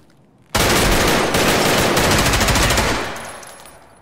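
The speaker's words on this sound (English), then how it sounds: "I shot a grenade right now." A grenade launch and gunfire in the video game Escape from Tarkov, a sudden loud close blast running straight into a rapid burst of automatic fire for about two and a half seconds, then fading away.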